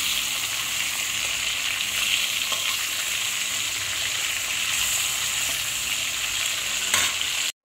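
Pieces of snakehead fish fry in hot oil for a Bengali curry, giving a steady, close sizzle and crackle that holds evenly from start to finish with no voices.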